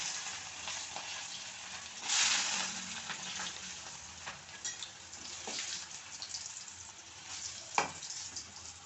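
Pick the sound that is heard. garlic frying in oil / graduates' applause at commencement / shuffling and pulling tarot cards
garlic frying in oil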